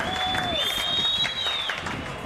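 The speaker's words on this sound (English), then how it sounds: "Oh, the crowd enjoyed that." A crowd at an Australian rules football qualifying final roars and applauds after a Tiwi Bombers goal against Southern Districts, a steady wash of cheering with a couple of shrill whistles rising above it.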